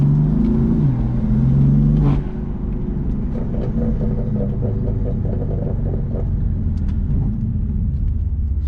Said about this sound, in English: When you're in the car, the intake, the engine, together, it makes beautiful noises.